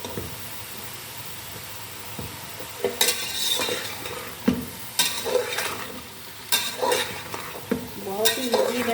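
Bottle gourd sabzi with cumin and green chillies being stirred in a pan: a quiet sizzle, then repeated scraping spatula strokes and clatters at close range, irregular and rising in loudness.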